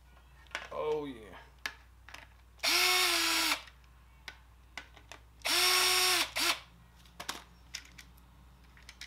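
A power drill removes screws from a desk, running in two loud sustained whirring bursts a few seconds apart, with clicks and handling noises around them and someone talking briefly at the start.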